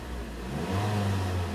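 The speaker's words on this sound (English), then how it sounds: "Revs up really, really nice. Engine sounds great, actually." A 2011 Ford Focus SE with a four-cylinder engine revs steadily, its hum climbing and holding at a higher pitch partway through, close and alone with no talk.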